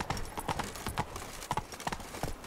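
Horse hooves clip-clop at a brisk gallop in The Witcher 3, rendered as steady rhythmic thuds close by, with no talk over them.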